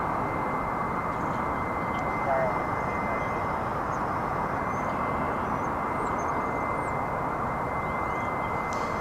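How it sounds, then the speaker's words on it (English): An American Eagle regional jet on Flight 3655 from McAllen, Texas, roars steadily at DFW Airport, a broad, constant engine wash that fills the whole stretch at even loudness. "This will be American Eagle Flight 3655 from McAllen, Texas, down in the south part of the state."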